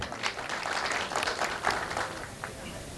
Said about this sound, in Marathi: एकदा त्यांच्यासाठी टाळ्या वाजव